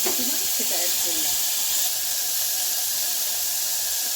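Diced pumpkin hits a hot pan while cooking a one-pot vegetable khichdi without oil, releasing a continuous, even steamy hiss at close range.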